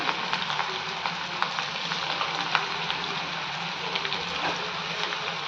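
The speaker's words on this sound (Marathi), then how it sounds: "आता आपण ह्या एक एक करून तळून घेऊयात तळताना गॅस जास्त मोठाही नाही जास्त कमीही नाही मीडियम गॅसवरती तळून घ्यायच्या" Rava chakli sizzles in hot oil over a medium flame, a few pieces frying at once, giving a steady, close, crackling bubbling hiss that runs without pause and with no talk.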